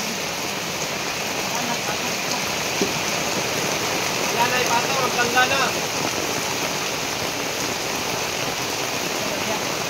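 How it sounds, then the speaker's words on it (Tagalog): Heavy rain pours steadily onto surfaces around a house in a dense, unbroken hiss, loud and close, while a voice speaks briefly over it. "Umulan na naman, malakas."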